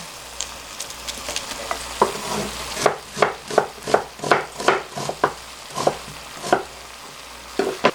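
A sliced medium onion is tipped into a gently simmering pot of braised potatoes, followed by a run of soft scraping stirs and light clinks against the pan.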